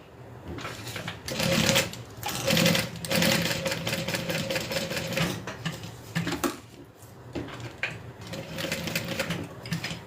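A sewing machine stitches backpack fabric at a 4.5 stitch length, its fast rattling runs coming in several bursts with short pauses between, close and fairly loud.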